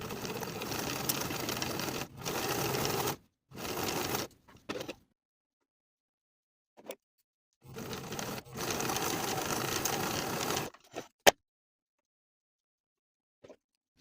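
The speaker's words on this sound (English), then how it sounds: "Now I'll sew each of the darts from the top to the point" Sewing machine stitching darts on pant pieces, running in several steady whirring bursts separated by pauses and brief clicks, close and moderately loud.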